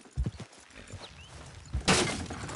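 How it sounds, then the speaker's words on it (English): Horses in Red Dead Redemption 2 clatter past with hoof clip-clops and a brief whinny, followed by a sudden loud crash or burst of noise near the end. "Watch the horses!"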